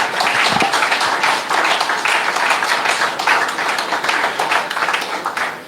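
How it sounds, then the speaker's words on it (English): Loud, sustained standing applause from a room full of people at a school class reunion, many hands clapping in a dense, continuous patter that holds steady throughout. "let's give Brother Jamin a standing round of applause"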